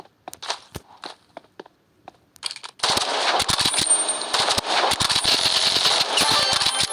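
Video game shooter gunfire: a few sparse shots and clicks, then sustained rapid automatic fire with sharp crackling bursts, loud and close.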